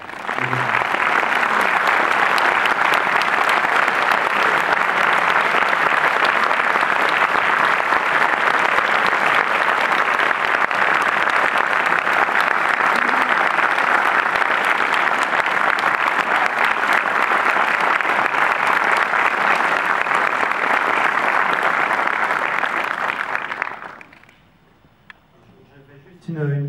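A theatre audience applauds a film director at a film presentation, with loud, steady, continuous clapping that lasts about twenty-four seconds before it stops abruptly.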